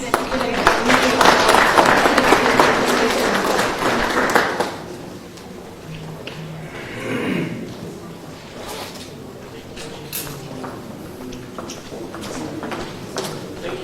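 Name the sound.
round of applause for a conference speaker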